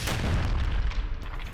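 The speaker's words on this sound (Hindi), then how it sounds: "खान यूनिस में इजरायली एयरफोर्स ने भीषण एयर स्ट्राइक की" Explosion from an Israeli airstrike in Khan Younis: a loud, deep boom with a heavy rumbling roar that fills the whole moment and fades only slightly toward the end.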